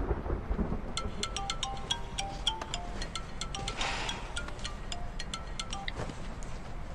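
Steady rain during a typhoon with a low rumble of thunder, a continuous wash of downpour heard at moderate level with faint tonal sounds over it and no talking.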